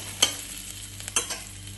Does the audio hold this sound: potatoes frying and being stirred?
yes